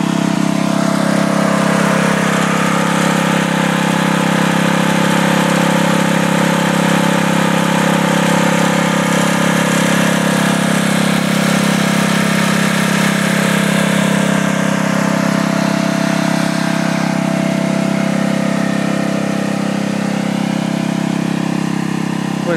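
A riding lawn mower engine runs continuously at a steady, loud idle, a close mechanical drone with a faint change in tone partway through and no voices.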